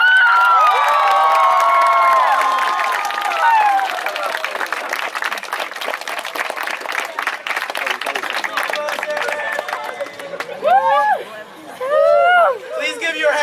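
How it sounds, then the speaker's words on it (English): Crowd at a youth LAN gathering bursts into loud cheering, whooping and applause for Sam Paco, sustained and boisterous before fading into scattered claps, shouts and excited voices near the end. "Please give a round of applause for Sam Paco."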